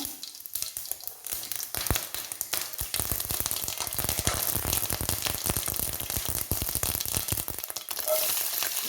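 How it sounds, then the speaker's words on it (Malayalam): Dense, rapid crackling and popping of mustard seeds spluttering in hot oil in a pan, close and steady throughout, with sharp bursts and no voices. "ചട്ടി നന്നായിട്ട് ചൂടായിരുന്നു നമുക്ക് കടുക് ഇട്ട് കൊടുക്കാം"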